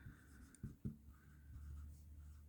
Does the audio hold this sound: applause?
no